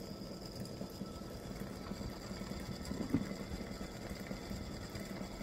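An embroidery machine stitches a patriotic stars-and-stripes oval earring design with a continuous low mechanical whir and a fast, even stitching patter, quiet and close, with no voices.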